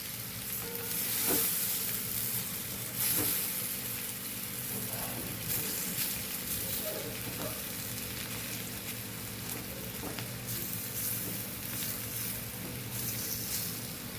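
Kathiyawadi patra bites, rolled colocasia leaf pieces, fry to a crisp in a pan over a very low gas flame, giving a steady close sizzle with soft crackles and pops and no voices.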